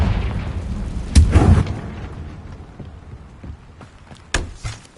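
A Confringo fire spell in the video game Hogwarts Legacy bursts with a deep, loud boom, and a second explosive blast follows a few seconds later over a low rumbling background.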